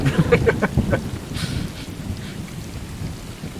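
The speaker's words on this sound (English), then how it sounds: "And there's rain." Rain and rolling thunder from the video game Stray, a steady wash of rainfall with a low thunder rumble, heard alongside a few faint voices near the start.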